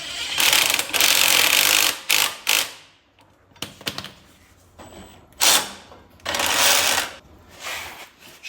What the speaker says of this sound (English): I'll have to tighten up some bolts.